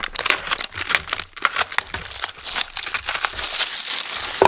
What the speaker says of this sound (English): Unwrap this.